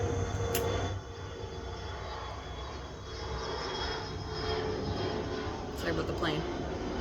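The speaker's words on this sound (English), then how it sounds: "Sorry about the plane." An airplane passes overhead outdoors, a steady broad engine drone running throughout beneath a person talking nearby.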